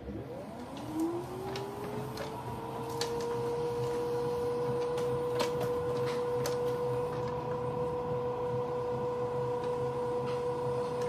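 A ceramic lidded jar spinning on a potter's wheel while being trimmed and chattered with a small tool, giving a steady rising whine from the wheel with rapid ticking taps on top, close and even.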